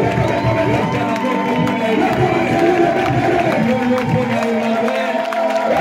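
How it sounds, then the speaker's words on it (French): A church congregation cheers and acclaims Emmanuel, a dense, loud, continuous crowd roar of shouts and voices with whoops throughout. "Acclame pour Emmanuel."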